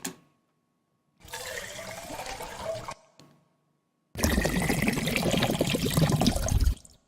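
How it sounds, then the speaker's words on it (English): Water from a small on-the-go drinking bottle with a tiny drinking hole, recorded close for Foley filling effects: two separate bursts of gurgling, pouring liquid, the second longer and louder, with silence between them. "So these water filling effects up here,"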